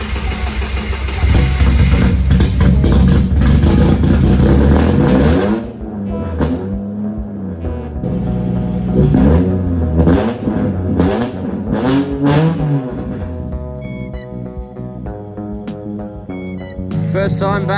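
A rear-wheel-drive Subaru GC8 with a 3.6L H6 engine and a 2-inch into 3-inch side-dump exhaust with muffler revs loudly up and down in repeated sweeping pulls, with rattly clatter between blips.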